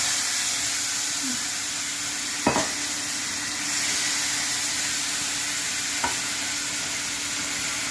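A watery paste of ginger, cumin and chili powder with green chilies hisses loudly as it hits a hot pan in a pressure cooker, a steady close sizzle with a couple of brief clanks.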